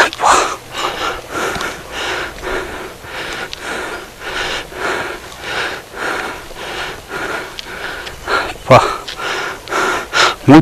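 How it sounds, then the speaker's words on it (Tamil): Heavy, labored breathing repeats in steady rhythmic gasps, close and loud, with occasional sniffs as someone pants from exertion while climbing a steep hill. "மூச்சு வாங்குறதே பயமாக இருக்கு."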